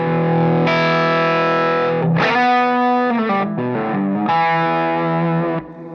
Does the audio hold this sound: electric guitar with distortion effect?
yes